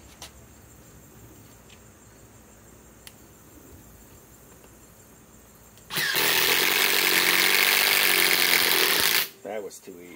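A Metabo HPT WH18DDX cordless impact driver drives a 6-inch construction screw in one loud, rapid hammering burst lasting about three seconds, after a quiet stretch with light background noise.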